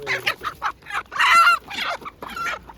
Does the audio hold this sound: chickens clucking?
yes